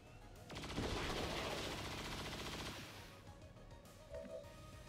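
Saturation fire unleashed in the strategy video game XCOM 2: a loud sustained burst of rapid automatic gunfire lasting about two and a half seconds, then fading into quieter game ambience with a small chime.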